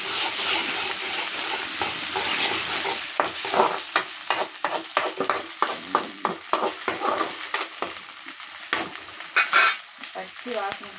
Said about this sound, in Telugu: ఈ అల్లం వెల్లుల్లి పేస్ట్ పచ్చి వాసన పోయేదాకా వేయించుకోండి.